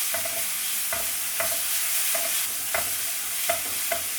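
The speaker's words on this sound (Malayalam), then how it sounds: "വെളുത്തുള്ളിയും പച്ചമുളകും കൂടെ ഇതിലേക്ക് ചേർക്കാം. എന്നിട്ടൊന്ന് വഴറ്റിയെടുക്കാം കേട്ടോ." Onions, garlic and green chillies sautéing in a pan for a Malabar chicken curry, with a steady sizzle and regular scraping stirs about every half second, close and alone.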